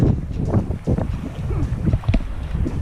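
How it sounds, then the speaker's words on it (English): Sailboat running downwind under sail: steady loud rushing wind buffeting the microphone with gurgling water along the hull, continuous and close. "We're sailing, yes, for the first time in 4 weeks. We've actually got the sails up. We're going downwind."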